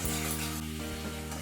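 Kashmiri chilli powder and turmeric powder sizzle in hot oil over tomato for a hilsa fish curry, a steady close crackle with a low hum running beneath, no voices.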